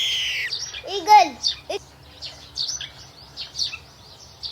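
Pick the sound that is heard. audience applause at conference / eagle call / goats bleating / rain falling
eagle call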